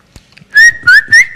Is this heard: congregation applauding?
no